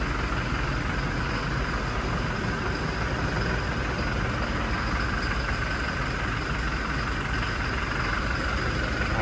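Steady, unchanging drone of a vehicle engine idling while it warms up, a constant low hum and hiss from start to finish with no talk.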